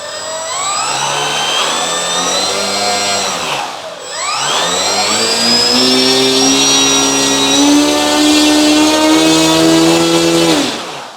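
A small gas or glow engine on a 1.6 m Fi 156 Storch model airplane runs up to high throttle, a loud, steady rising whine with strong harmonics, a brief dip near four seconds, then climbing again before cutting off.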